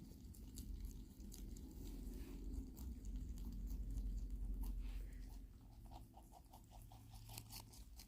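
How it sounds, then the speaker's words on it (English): Rabbits munching on spinach leaves, a soft, steady patter of small chewing and nibbling clicks close by, continuing throughout under a low background rumble. "my tummy listening to the munching sounds"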